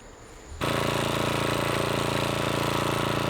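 A string trimmer engine on a homestead garden plot revs up sharply from a low idle to a steady, loud, buzzing full-throttle drone, running continuously close by.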